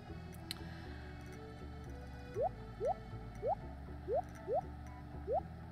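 A watering can pours onto crops in the video game Stardew Valley, six short rising bubbly drip-splash sounds in a fairly even rhythm over a soft, steady background game music.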